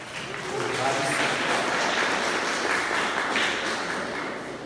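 Applause from a church congregation at a Sunday service, a steady dense wash of clapping that holds at an even level throughout, with some voices mixed in.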